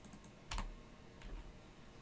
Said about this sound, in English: Pressing the delete key to get rid of that.